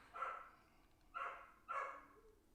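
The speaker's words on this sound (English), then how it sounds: "I think we have a very upset dog downstairs." An upset dog barks three times from downstairs, muffled and distant, the barks spaced about a second apart over a quiet indoor background.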